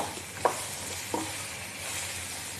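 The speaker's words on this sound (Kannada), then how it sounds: "ಇದನ್ನ ಹಾಕಿ ಇದರಲ್ಲೇ ಹುರಿಬೇಕಿದೆ ಶೇಂಗಾನೂ" Peanuts roast in oil in a pan over a medium flame, giving a soft continuous sizzle with two sharp spoon knocks against the pan.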